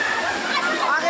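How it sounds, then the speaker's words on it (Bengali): Waterfall pouring down beside a hillside ashram in Assam where people are bathing, heard as a steady, full rushing wash of water close by, continuous for the whole moment. "ঝর্ণা বয়ে আসছে।"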